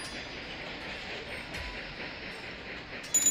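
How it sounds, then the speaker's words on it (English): In Railroad Tycoon 3, a train moves onto the track with a steady, soft rolling rumble that lasts a few seconds. "And then the train sort of shuffles itself onto the track."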